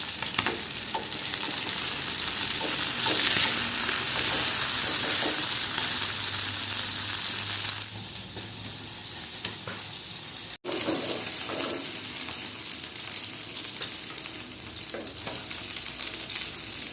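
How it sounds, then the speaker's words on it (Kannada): Fish frying in a pan with a steady, close sizzle that runs throughout, along with occasional stirring and watery splashes. "ನೋಡಿ ಇವಾಗ ಮೀನು ಫ್ರೈ ಆಯಿತು,"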